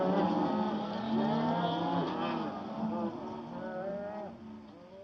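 Cattle on an Australian ranch moo and low in overlapping calls over a steady background rumble, several animals close by over a few seconds.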